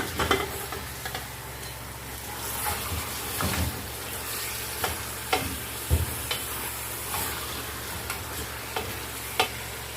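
Beef frying in hot oil inside a pressure cooker for nihari gives a steady close sizzle, broken by several louder clanks and scrapes of stirring.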